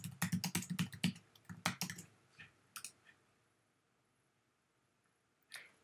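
Quick bursts of close computer keyboard typing as a password is entered, clustered keystrokes up front, then a few sparse clicks and a final tap after a quiet gap.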